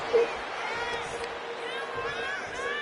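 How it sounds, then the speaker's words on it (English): Video game wrestling crowd in WWE 2K26 roaring for Triple H during a tag team match, a steady murmuring cheer with a brief whoop near the start and a moderately loud, sustained swell throughout. "Triple H drawing a big reaction from the crowd"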